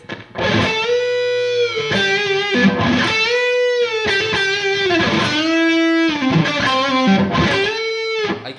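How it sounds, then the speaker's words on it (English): Distorted electric guitar playing a run of sustained notes with raked, muted string strikes between them, loud and close. "like this type of rake sound"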